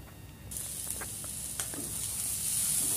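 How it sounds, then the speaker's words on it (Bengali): Green chili and tomatoes frying in a pan over medium heat for a dhaba-style arhar dal tarka: a steady sizzle starts abruptly and continues, with soft scraping stirs and small pops scattered through it. "লঙ্কাটা দিয়ে এবার নেড়ে চেড়ে"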